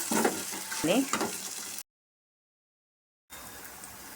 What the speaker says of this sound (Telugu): ఆనియన్స్ ఫ్రై అయిన తర్వాత వంకాయ వేసుకొని బాగా ఫ్రై చేసుకోవాలి